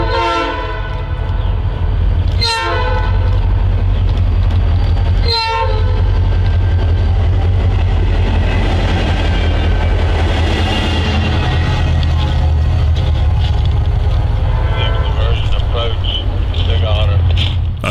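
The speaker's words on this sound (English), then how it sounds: "we caught this former Conrail SD40-2 running light through town" A former Conrail SD40-2 diesel locomotive running light through town rumbles steadily and close, with two loud horn blasts early on and continuous engine drone and rail noise throughout.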